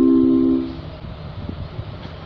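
A train arrives at platform 1, track 10 at Žďár nad Sázavou station, rumbling in at close range, a steady tonal horn-like note fading after half a second into low mechanical rumble and clanks.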